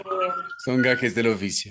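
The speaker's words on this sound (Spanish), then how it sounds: "perdón por la sirena que está aquí atrás" A siren sweeps loudly outside behind someone speaking Spanish during an interview, its steady wail continuing under her voice.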